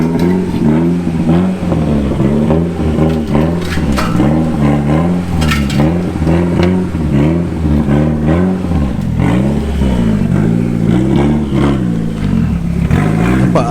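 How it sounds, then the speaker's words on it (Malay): A Proton Wira fitted with a 4G61T turbo engine revs hard and loud nearby, its pitch rising and falling in repeated sweeps as the throttle is worked, with a mechanical clatter underneath and no talk. "Dan dengarkan bunyi yang best daripada enjin 4G."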